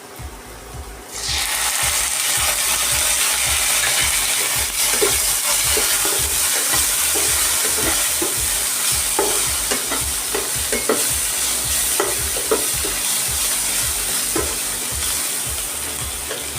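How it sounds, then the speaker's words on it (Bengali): Onions frying with ginger garlic paste in a pan for banana flower chops, a loud steady sizzle with quick, regular stirring scrapes close by throughout, no talking. "পেঁয়াজের সাথে আদা রসুন ভালো করে ভাজা হয়ে গেছে"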